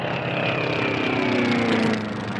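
A Formula One class racing airplane roars past at an air race, its propeller engine loud and steady with a sliding pitch as it passes close by.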